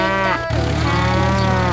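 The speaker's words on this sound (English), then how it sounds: "Wow! Cows! They look so happy!" A cow on a farm gives one long, loud, close moo that breaks briefly and then carries on as a sustained low bellow.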